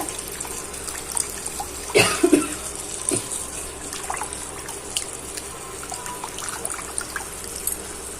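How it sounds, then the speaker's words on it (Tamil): Tamarind water trickles and splashes into a pot, with a brief louder pour in the middle, against a quiet, steady background. "புளி கரைசல் ஊற்றிப்போம்."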